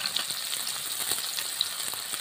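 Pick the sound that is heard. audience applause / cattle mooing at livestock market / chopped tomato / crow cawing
chopped tomato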